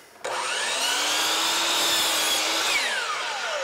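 Power saw slicing through crown molding for a ceiling install, one continuous loud whining cut lasting about three seconds, starting abruptly and pitch dropping as the blade spins down, close up with no voices.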